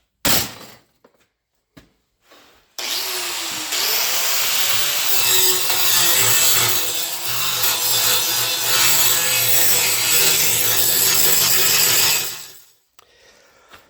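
A saw or cutting tool trims off excess pieces, a continuous rough, rasping cut for about nine seconds between short knocks and handling sounds, close and fairly loud.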